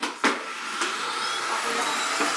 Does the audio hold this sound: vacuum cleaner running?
yes